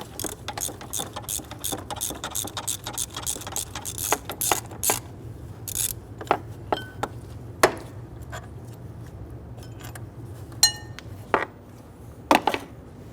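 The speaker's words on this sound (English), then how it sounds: "We're going to use our stubby extension, get on in there, loosen and remove this one." A stubby ratchet extension clicks in quick bursts while loosening a 15mm bolt in the engine bay of a 1999-2004 Jeep Grand Cherokee, with sharp metallic ticks and knocks continuing more sparsely near a steady low hum.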